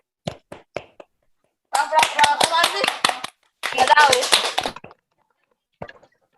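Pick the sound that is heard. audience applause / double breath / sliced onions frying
audience applause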